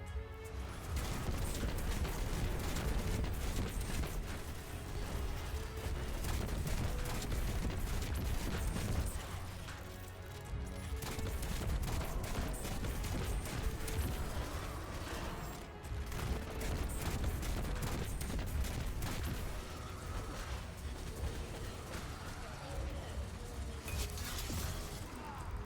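A Void grenade launcher with Explosive Light and Clown Cartridge fires in Destiny 2, a dense run of repeated explosive blasts and shattering crashes with brief pauses between volleys.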